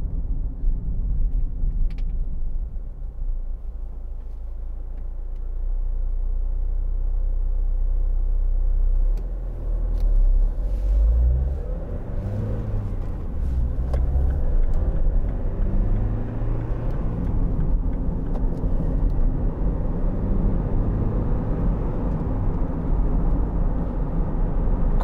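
A 2010 Chevrolet Captiva 2.0 VCDi diesel with a five-speed gearbox is heard from inside while driving: a steady low engine and road rumble rises and falls through gear changes for the whole stretch, with no talking.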